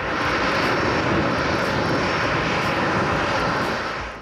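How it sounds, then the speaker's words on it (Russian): Airliner jet engine roaring steadily and loudly at Strigino airport in Nizhny Novgorod, a broad continuous rumble with a hiss on top, close and unbroken throughout. "первый лайнер в аэропорту Стригина встречали своеобразной водной аркой"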